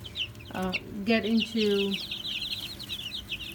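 Backyard pet chickens cluck up close in a few short bursts and a drawn-out, wavering call, while a voice speaks briefly over them and softer chirps carry on behind.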